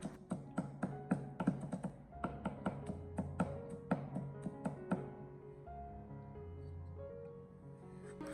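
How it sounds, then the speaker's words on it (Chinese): A kitchen knife mincing garlic and ginger on a cutting board for hot and sour shredded potatoes: rapid, irregular, crisp tapping strokes for about five seconds, then a few softer, sparser taps, close and fairly quiet, with no talk. "我们先把大蒜生姜用刀拍一下，将其拍碎，最后再将其改刀切成蒜末和姜末"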